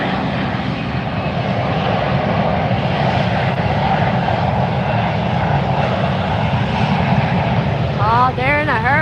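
Engines of a JetBlue jet airliner roar steadily at Fort Lauderdale airport, a loud continuous rumble and hiss that holds throughout, with a voice talking over it and a brief rising whistle near the end.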